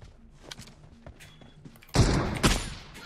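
Gunfire in an online battle royale shooter, faint scattered clicks and thumps giving way to a loud burst of rapid shots near the end, with no talking.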